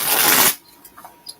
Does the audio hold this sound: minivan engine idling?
no